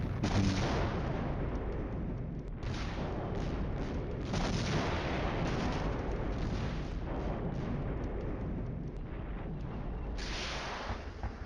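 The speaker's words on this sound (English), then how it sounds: "it would be almost impossible to find your way through, especially under this type of artillery fire" Artillery fire in the Cold War wargame Flashpoint Campaigns rolls on as a dense, continuous barrage of booming blasts, with heavier thumps recurring every few seconds, steady and fairly quiet, with no voices.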